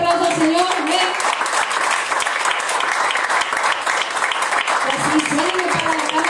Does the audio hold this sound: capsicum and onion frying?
no